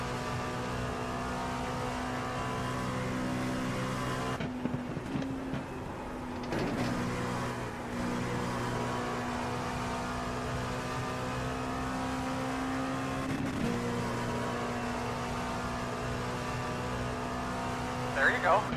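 Race car engine in a racing video game, droning steadily with a sustained tone throughout as a GT3 car is caught, with brief shifts and dips partway; a voice talks over the engine.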